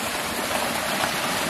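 Steady rushing flow of a garden pond waterfall, freshly cleared of a clog, pouring continuously at close range with a broad, even hiss and gurgle and no breaks.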